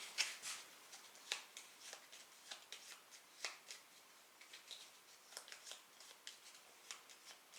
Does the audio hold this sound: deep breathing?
no